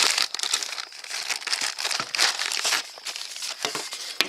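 A plastic bag crinkles and rustles up close as a genuine Nissan rear wiper arm is pulled out of it, in a steady run of crisp, irregular crackles.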